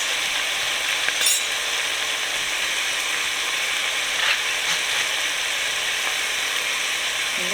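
Onions frying together with ground beef in a pan, a steady loud sizzle running throughout with occasional faint scraping ticks from a utensil, no talking.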